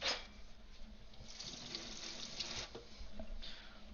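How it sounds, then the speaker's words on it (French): A kitchen tap runs steadily into a sink as a knife that cut tofu is rinsed under it, a close, continuous splashing flow with small shifts as the blade moves through the stream. "Je rince un peu mon couteau vu qu'il a utilisé, qu'il a découpé le tofu"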